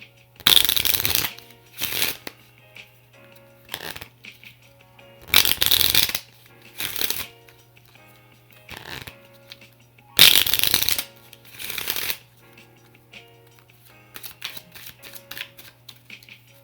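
Playing cards are shuffled by hand in short riffling bursts, several in a row with pauses between them, close and crisp against a low steady hum.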